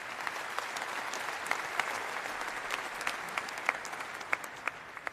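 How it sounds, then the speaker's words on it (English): Conference audience at Bitcoin Amsterdam 2022 applauding the organizers, a dense steady patter of many hands at moderate distance with a few sharper individual claps standing out, no talking. "So give them one extra hand of applause,"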